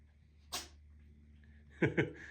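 A single sharp sneeze bursts out, followed a moment later by two quick voiced sounds, all fairly close.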